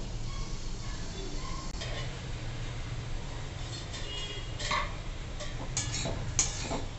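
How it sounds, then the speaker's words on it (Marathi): Potato and sago khichdi mixture being stirred in a pan, with soft scraping and shuffling strokes and faint clinks of the utensil against the pan, continuous and close. "आता हे सगळं आपण मिश्रण चांगलं एकजीव करून घेऊ."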